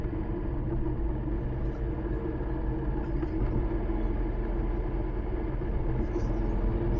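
A Triumph Tiger 1200 Rally Explorer motorcycle labouring in third gear below thirty miles an hour gives a continuous, heavy low rumble that stays dense and unbroken, with a rough undertone of wind or road noise throughout.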